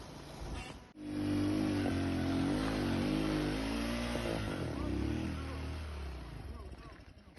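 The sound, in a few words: motorcycle revving on uphill trail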